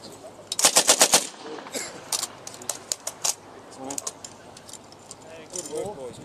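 An M60 machine gun test-fired at Ironfest 2019 lets off a sharp burst of rapid rounds followed by scattered single shots, loud and close, with voices talking between the bursts.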